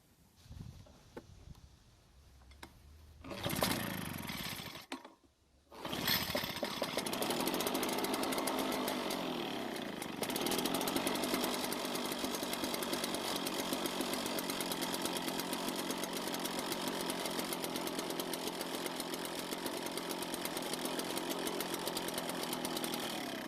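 A small two-stroke Echo backpack blower engine, leaking fuel from the carburetor, sputters, then roars to life and runs at a loud, steady, buzzing idle for a long stretch.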